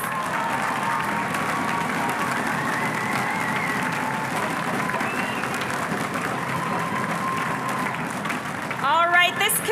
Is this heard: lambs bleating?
no